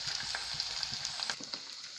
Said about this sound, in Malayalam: ഇനി നമുക്കിത് നന്നായി ഒന്ന് ഫ്രൈ ആയി വരുന്നത് വരെ വെയിറ്റ് ചെയ്യാം